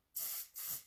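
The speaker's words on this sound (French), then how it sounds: "2 petits coups de pchit normalement c'est suffisant" Two short, close bursts of foundation spray from an aerosol can, each a bright airy hiss with a brief pause between them.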